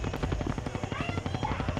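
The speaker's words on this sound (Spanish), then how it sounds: "Hay un helicóptero moviéndose o algo parecido" A helicopter moves in a video game, its rotor making a fast, steady chop that pulses evenly throughout at moderate loudness with no voices over it.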